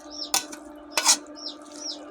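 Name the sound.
stirring cabbage, potatoes and peas in a wok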